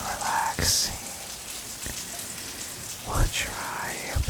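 Gentle rain patters steadily as a soft, close background wash in a calm relaxation setting, with a few faint soft rustles and taps on top and no clear talking.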